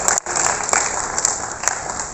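Applause from the audience at a Hindi comedy poetry gathering in Lucknow, a Holi special: a dense, steady wash of clapping that fills the whole moment at close range, with a brief dip early on, and no talking over it.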